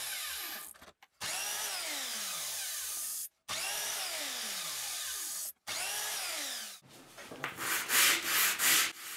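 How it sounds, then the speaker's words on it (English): Wooden pallet valves for a homemade portative pipe organ being sanded, with three long, loud bursts of power sanding separated by short stops, then rougher uneven rubbing strokes toward the end, no speech. "I sand the valves and check the width."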